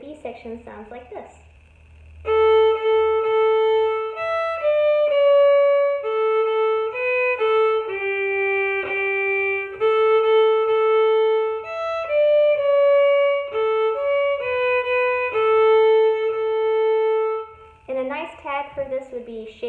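A solo fiddle plays the B section of Old Joe Clark as a bright, clear run of bowed notes that lasts about fifteen seconds. Brief talk comes before and after it.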